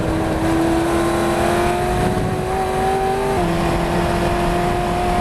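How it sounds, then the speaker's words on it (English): Daytona Cobra race car engine roaring continuously at high revs on the Spa circuit, loud and close, with pitch shifts between gears. "In this clip, you'll see Ollie race a Daytona Cobra position."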